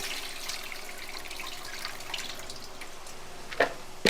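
Water runs steadily from a tap with a soft hiss while a pot is washed, and a couple of sharp clinks come near the end.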